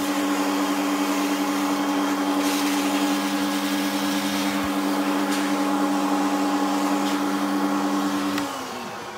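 A pet dryer blows steadily while a Schnauzer is groomed after its bath: a loud, continuous whirring roar with a strong hum that holds for most of the clip, then winds down near the end.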